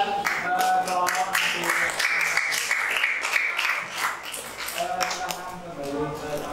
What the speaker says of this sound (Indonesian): beri tepuk tangan pada kelompok